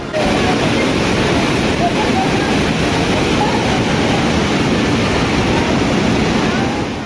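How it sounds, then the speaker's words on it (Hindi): Rushing floodwater pouring into the Jatashankar Dham temple in Chhatarpur, Madhya Pradesh, after continuous rain: a loud, steady broadband roar of water that runs the whole time without letup. "पानी के तेज धार ऐसी कि सब बहा ले जाने पर आमादा"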